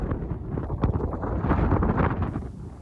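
Strong summer wind sweeps the Bradost mountains, a loud, gusty roar buffeting the microphone without pause.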